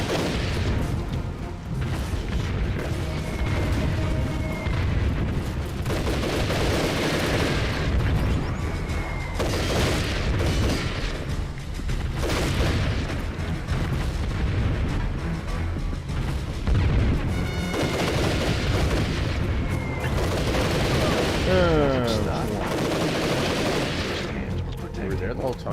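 Continuous artillery fire and explosions in a war video game, heavy booms and blasts rolling one into another over dense battlefield noise, loud and near, with no clear gaps.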